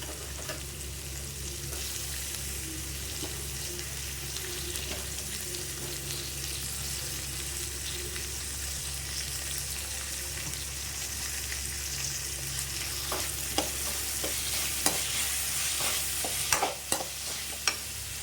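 Tomatoes going into a pan of sautéed onions for a home dinner, frying with a steady close sizzle and occasional stirring scrapes and clinks that grow sharper toward the end; no talking.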